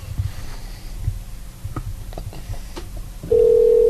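After quiet rustling, a loud, steady electronic phone ring tone starts and holds near the end.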